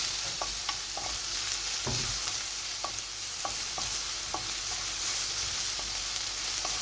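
Onions and mushrooms fry in a pan with a constant soft sizzle, while a utensil stirs them and scrapes and taps the pan several times at an uneven pace.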